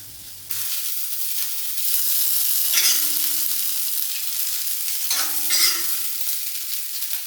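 Grated coconut fries in coconut oil with mustard seeds, curry leaves and dried red chillies, a loud, close, bright sizzle that swells twice as the mixture is stirred.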